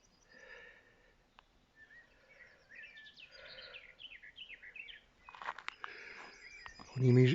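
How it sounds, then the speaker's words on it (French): Small birds chirp and trill in quiet countryside at a wartime memorial site in the morning, bright varied calls coming and going at moderate distance, with a louder sound near the end. "on entend les petits oiseaux chanter, on entend la nature qui se réveille"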